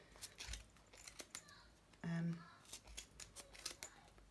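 Scissors trimming wool on a pom-pom maker, a series of quiet close snips and rustles in an irregular rhythm, with a brief tonal hum in the middle.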